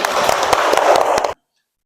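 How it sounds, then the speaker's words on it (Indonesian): Schoolchildren in a classroom clap for their classmates, a brief burst of close, dense applause that stops abruptly into silence. "beri tepuk tangan untuk teman-teman"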